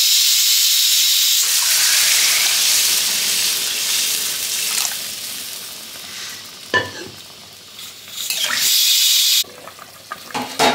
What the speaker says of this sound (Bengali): এরপরে আমি জলটা দিয়ে দিচ্ছি